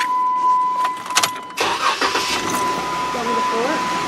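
A Jeep JK on its stock exhaust cranks and fires up, then settles into a steady mid-pitched idle close by, with a faint tone and light talk beneath.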